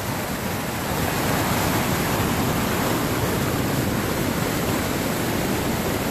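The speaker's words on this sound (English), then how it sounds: "This is the waterfall pouring off of a cliff face" Waterfall pouring off a cliff face down into the Colorado River in Glen Canyon, a steady, loud broadband roar of falling water that holds constant throughout with no voices.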